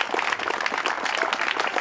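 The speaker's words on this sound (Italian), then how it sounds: "vorrei fare un applauso ai nostri giovani" Audience applause at an outdoor commemoration for the inauguration of a monument to former internees, a dense, steady patter of many hands clapping close by for the whole moment, with no talk over it.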